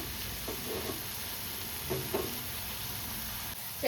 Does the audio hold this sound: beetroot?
yes